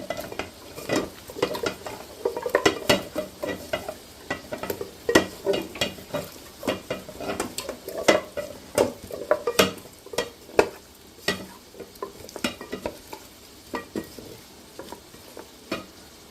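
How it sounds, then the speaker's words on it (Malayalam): A spoon stirs turmeric into frying chicken for Hyderabadi dum biryani, scraping and clinking against the pot in an irregular rhythm over a soft, steady sizzle, close by with no talking. "ഈ സമയം നമ്മൾ കുറച്ച് മഞ്ഞൾപ്പൊടി നമ്മൾ ഈ ബിരിയാണി ചിക്കനിലേക്ക് നമ്മളിട്ട് നമ്മളൊന്ന് മിക്സ് ചെയ്ത് കൊടുക്കണം."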